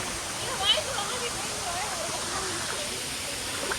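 River water near Junagadh rushes and splashes steadily as a group crosses it, a continuous close wash of flowing water with faint voices beneath.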